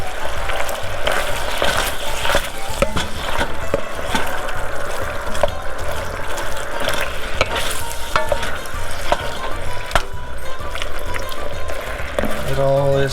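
Calzone filling fries in a pan while being stirred, giving a continuous loud sizzle broken by scraping strokes and small clinks of the spoon against the pan.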